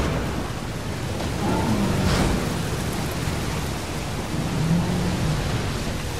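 In-game storm from Jurassic World Evolution: dense steady rain hiss fills the scene while a low thunder rumble rolls through, swelling and receding without any voices.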